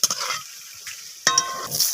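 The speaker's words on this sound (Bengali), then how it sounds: "তো আমি এই কোপ্তাগুলোকেও একইভাবে লাল লাল করে ভেজে নেব।" Jackfruit koftas frying until reddish in hot oil, giving a close crackling sizzle broken by sharp metallic clinks and scrapes of a spoon against the pan.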